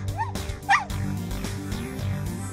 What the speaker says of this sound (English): The puppy.